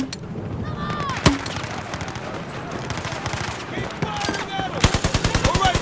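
Automatic gunfire in Battlefield 4 rattles in rapid bursts, with a heavy single boom early on and a dense run of shots near the end, amid layered in-game battle noise and explosions.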